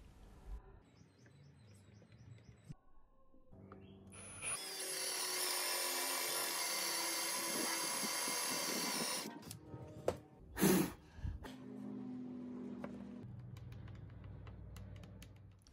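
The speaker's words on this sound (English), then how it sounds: "With the Forstner drill bit, I will now drill a 10mm cavity into each leg." A Forstner bit drills a 10mm cavity into a wooden stool leg, a loud high-pitched whine that runs steadily for about five seconds, followed by a few short clunks and quieter handling noises.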